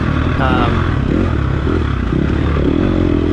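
A dirt bike braking hard into a turn during an offroad race, its engine loud and close with rattling chain chatter and scraping clatter throughout.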